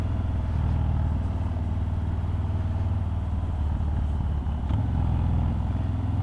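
A Harley-Davidson Fat Bob 114 motorcycle engine with an aftermarket exhaust roars steadily nearby, a deep, loud rumble that swells slightly as it pulls, with no speech.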